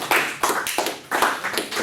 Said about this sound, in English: Let's give Ian a round of applause.